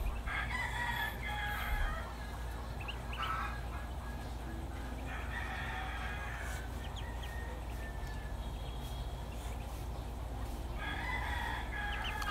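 Backyard farm poultry around Muscovy ducklings and chicks, with bird calls and clucks rising in a few bursts over a steady low background hum, moderately distant and without speech.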